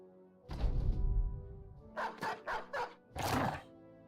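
Dog barking in the Battle Brothers video game, a deep bark followed by a rapid series of four sharp barks and a final longer bark, loud and close with no talk over it.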